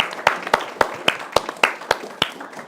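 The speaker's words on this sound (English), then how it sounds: "can I have a round of applause for my wonderful guests?" Audience applause for guests at the close of a talk event: scattered, sparse clapping with distinct individual claps spaced irregularly, fairly near and moderately loud, no voices over it.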